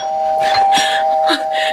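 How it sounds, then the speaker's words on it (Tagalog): An electronic doorbell buzzes and rings several times in quick succession, loud and close, with a steady tone running beneath. "Gusto pa yatang sirain ang doorbell ko."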